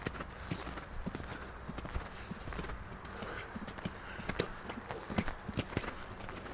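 A young horse's hooves clip-clop at a walk, in a quiet, irregular patter of soft strikes at a moderate distance over faint ambient noise.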